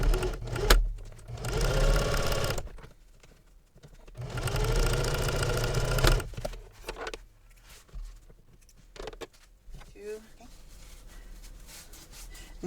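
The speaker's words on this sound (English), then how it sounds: "now I'm going to sew using a 1/4 inch seam allowance" A domestic sewing machine stitches a 1/4 inch seam through fabric in two long, steady runs of close, loud whirring. Pauses and handling noise come between the runs, and a voice is heard in the quieter stretches.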